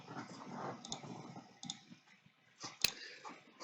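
A computer mouse clicking in a font design program, with a few sharp, isolated clicks spaced across a quiet room, one louder and crisper than the rest.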